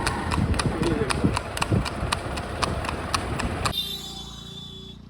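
Pushpa the mare's hooves clip-clop in a steady, even rhythm close by, a brisk run of regular strikes that breaks off abruptly near the end, leaving only a quiet background.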